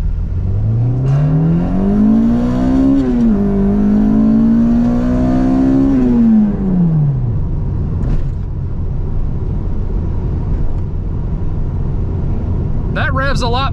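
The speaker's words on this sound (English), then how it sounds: "wide open throttle pull from first gear" A K24-swapped Acura RSX engine revs hard at wide open throttle in first gear toward 8,000 rpm, pitch climbing steadily, wavering briefly, then dropping off as the throttle releases, followed by a low idle.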